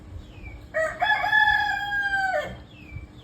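A single rooster crows loudly and close, one long drawn-out cock-a-doodle-doo lasting nearly two seconds against quiet background.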